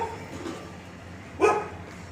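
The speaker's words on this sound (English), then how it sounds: "Right at the back is the dog that barks." A dog in a Bandra neighbourhood gives a single short, sharp bark after a quiet stretch of low background hum.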